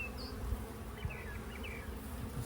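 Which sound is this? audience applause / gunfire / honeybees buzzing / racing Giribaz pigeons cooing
honeybees buzzing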